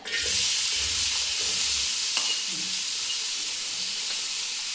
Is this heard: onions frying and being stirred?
yes